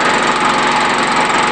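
A small petrol generator with a leaky engine runs steadily with a 500 watt light plugged in, producing a loud, close, continuous buzzing drone with no talk.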